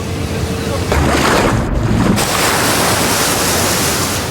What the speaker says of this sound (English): But the second crashes onto the stern, swamping the exposed quarterdeck.